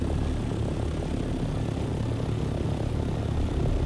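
A chopper flies in Dune Awakening, a steady droning engine and rotor roar holding at an even, moderately loud level without a break, with no voices over it.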